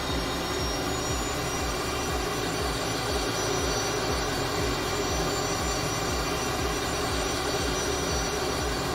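The Cessna T-37B Tweet jet in Microsoft Flight Simulator taxis with a loud, steady, high-pitched turbine whine over a rumbling engine drone that holds throughout.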